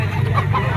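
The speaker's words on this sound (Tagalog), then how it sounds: "Tawagin nyo lang mga tol si Boss Jerry kung gusto yung mag-inquire sa mga manok na dala niya dito sa Lipa, Batangas Auction Market." Chickens clucking and squawking close by at the Lipa, Batangas poultry auction market, a continuous busy mix of poultry calls over a low background hum.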